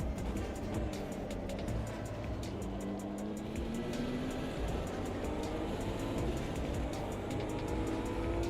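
A Super Trofeo race car in a racing video game draws closer, its engine note rising steadily in pitch over a dense, continuous roar of other racing engines.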